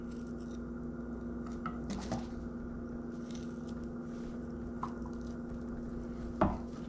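A knife works flesh off a deer buck's skull for a euro mount, giving quiet, scattered scraping and cutting sounds with a few sharper clicks of blade against bone over a low steady hum.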